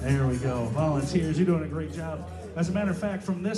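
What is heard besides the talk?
No distinct noise like a dog, phone or traffic.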